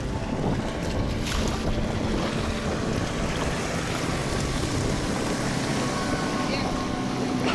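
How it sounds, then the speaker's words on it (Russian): A motorboat engine drones steadily nearby as it passes at speed, heard from a kayak, mixed with wind buffeting the microphone and splashing water, a continuous loud roar throughout. "Вот и катер первый на скорости идет."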